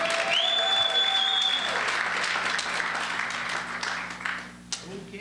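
Audience at a live comedy show breaks into sustained clapping that fills the room, with a whistle-like tone riding over it early on before the applause gradually thins out.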